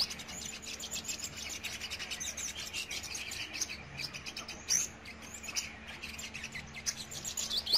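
A sunbird sings in a rapid run of high, bright chirps and twittering trills that keep going through the whole stretch, fairly close and lively over a faint low hum.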